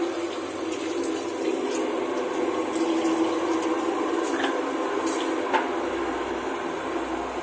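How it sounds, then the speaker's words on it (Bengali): Water poured into a cooked-down fish curry masala in a pan, a steady close rushing pour lasting several seconds with faint sizzle underneath, no voices. "মশলাটা কষা হয়ে গেছে এইবারে আমি জল দিয়ে একটু ফুটিয়ে নেব মশলাটা"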